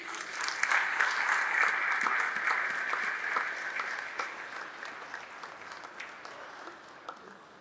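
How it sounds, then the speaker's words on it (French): A large audience at the 2023 DRC country-risk conference at Espace Kemesha breaks into sustained, dense applause to welcome the Prime Minister. The clapping stays steady throughout and eases slightly toward the end. "vos applaudissements."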